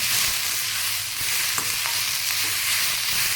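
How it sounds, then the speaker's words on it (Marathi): Onions being stirred and sautéed in a pan until golden, for a restaurant-style egg masala; a steady close sizzle runs throughout with a few scraping stir strokes, no talking. "हे बघा आता सोनेरी कलर आलेला आहे आपल्या कांद्याला तर व्यवस्थित परतून असं घ्यायचं"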